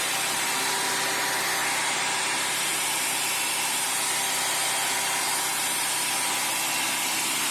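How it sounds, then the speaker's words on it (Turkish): A 1997 Fiat Tipo SX with a 1.6 engine idles in a steady, unbroken hum, a close, even drone with no revving and no voices over it. "Şu an arkadaşlar motor çalışıyor gördüğünüz gibi."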